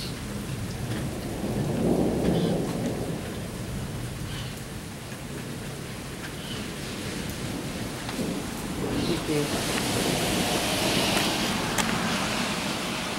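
Heavy rain pours steadily during a severe May thunderstorm, with deep rolling thunder rumbling close overhead and swelling again near the end, a constant loud wash of rain throughout.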